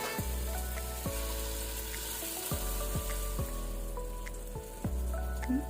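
Ground masala for a crab curry hits a pan of softened tomatoes and sizzles steadily, a soft continuous frying hiss with occasional spatters and a few faint clinks, no voices.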